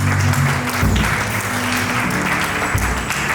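A wedding congregation at a nuptial blessing applauds to acclaim the Lord, with loud, dense, sustained clapping throughout and low organ or keyboard tones beneath.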